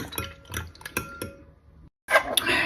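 A whisk clinks rapidly against a bowl of eggs in a quick series of sharp taps, pauses briefly, then resumes with busier clattering.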